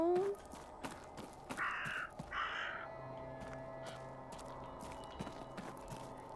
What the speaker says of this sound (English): There is no need for them crows to be acting like that.